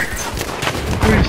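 Air-burst mortar explosions in a video game, a dense run of sharp blasts and crackling bursts with heavy low rumble, loud and close, overlapping each other across the short span.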